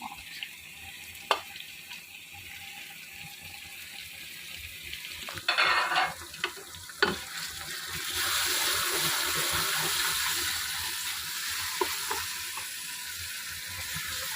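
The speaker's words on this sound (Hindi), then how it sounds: "अच्छी तरह भूनते हैं पानी लगा लगा के, ताकि मसाला जो है ना इसका अच्छी तरह मिल जाए और भुन जाए" Mixed vegetables and spices fry in a pan with a little water added, giving a steady close sizzle that surges louder partway through as the mixture is stirred, with a few clinks from the utensil.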